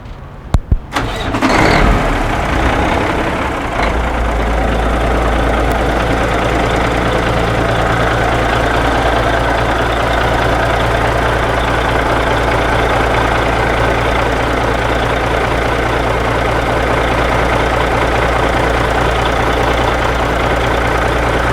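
A 1988 Peterbilt truck engine, seen at a truck show, cranks with a few sharp bursts, then settles into a loud, steady, rumbling idle that continues unbroken up close.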